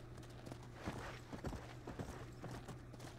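Horses in the Red Dead Redemption video game, hooves clip-clopping at a walking pace in an uneven rhythm, moderately close but quiet, with no talk over them.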